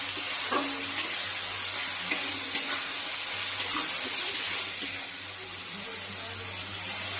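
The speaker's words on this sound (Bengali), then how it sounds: "টমেটোগুলো যাতে তাড়াতাড়ি গলে যায় তার জন্য দিয়ে দেবো নুন।" Tomatoes salted and frying in a pan for a prawn and young jackfruit curry give a steady, close hiss of sizzling. Soft clicks and scrapes from stirring come through now and then, with no talk.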